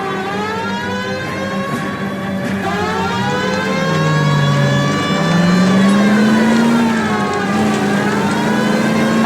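A car engine revs and strains during a police pursuit in LA Noire, its loud rising and falling tones layered with a wailing siren throughout.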